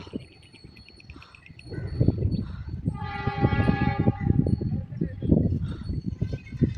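The Ooty heritage train approaches a hilltop, its steady low rumble growing louder, with a tonal horn sounding for over a second in the middle.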